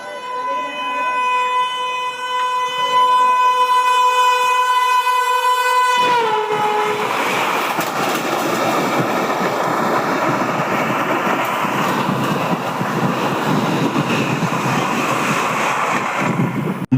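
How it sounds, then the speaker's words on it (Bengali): A Vande Bharat Express train sounds a long, loud horn, then thunders past close by with a dense, continuous rushing roar of wheels and cars. "হ্যাঁ, ওটা ছিল বন্দে ভারত এক্সপ্রেস।"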